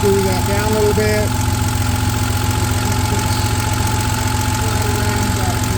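A 1987 Porsche 911 Carrera engine idles steadily and close by, a constant low rhythmic thrum with a faint ticking undertone that holds unchanged throughout.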